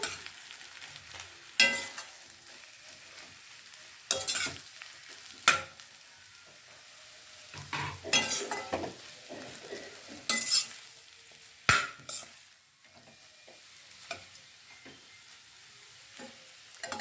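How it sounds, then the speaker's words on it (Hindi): Potatoes frying in a pan while a spoon stirs them, loud scraping clatters recurring every couple of seconds over a continuous sizzle, close up with no talking. "ये आलू भी मैं इसी में इसी तरह से चलाऊंगी मैं इसको।"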